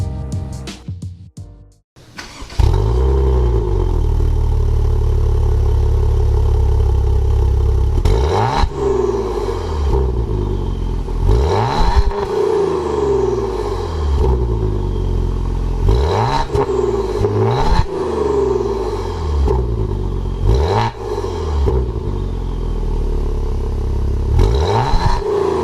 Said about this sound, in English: this exotic sedan certainly has a great exhaust note